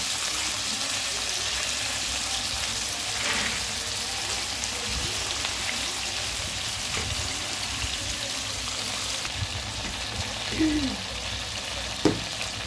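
Chicken pieces fry in a hot pan with a steady, dense sizzle that runs throughout, broken by a few faint clinks and scrapes near the end.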